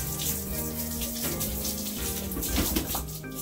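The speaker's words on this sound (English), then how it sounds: "Just give the monofins a good rinse." Cold tap water runs steadily over mermaid monofins being rinsed, a continuous close splashing rush with shifting spatter as the fins move under the stream, and no talking.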